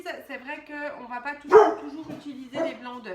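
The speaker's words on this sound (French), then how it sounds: "Désolée, c'est mon chien." A small dog lets out one sharp bark close by, cutting through someone speaking French about egg whites in a kitchen, with a softer yip following a second later.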